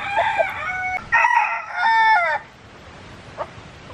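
An American mottled bantam rooster crows close by, one full harmonic call with a stuttering rise and a drawn-out end, followed by a faint short cluck in a quiet yard.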